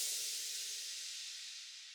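A long-tailed EDM crash layered with a more traditional crash cymbal, part of an 80s pop and disco-style beat, gives a bright hissing wash that slowly fades over two seconds with no other sounds.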